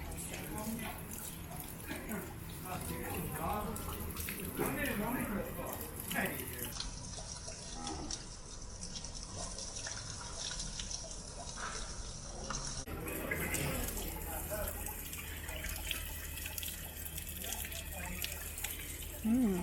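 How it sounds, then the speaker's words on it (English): Water runs steadily from a fountain outside Gazi Husrev Bey's mosque in Sarajevo's old town, a continuous near splashing and trickling under outdoor ambience with people talking nearby. "the water that runs right outside the base mosque"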